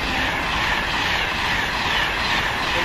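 A London Midland passenger train pulls out of a station, a loud, steady rumble of wheels and carriages rolling past close by, with no voices.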